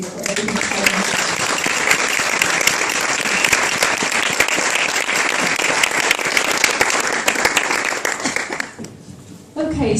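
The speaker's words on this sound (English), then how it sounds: "So a huge round of applause for you for everything, Tona." An awards-night crowd celebrating a business success award gives a winner a loud, sustained round of applause, dense clapping that carries on for nearly nine seconds before briefly dropping away, then picks up again at the very end.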